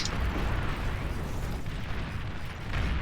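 A nuke detonates in the strategy game Beyond All Reason as a sustained, roaring low rumble that fills the whole stretch at steady loudness and swells slightly at the end.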